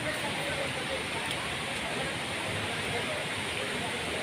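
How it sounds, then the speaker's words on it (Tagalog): A waterfall with clear, cold water sends up a steady broadband rush, a constant roar with no breaks, heard from nearby. "So yan, ibibidyo ko muna yung falls."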